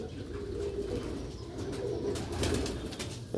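Pigeons coo softly and continuously nearby, a low throaty murmur over faint background noise.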